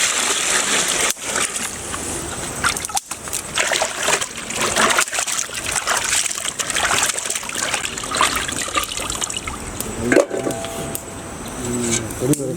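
Tapioca (cassava) is washed by hand in water for a mutton tapioca biryani cooked outdoors, with steady close splashing and trickling throughout and some talking at times.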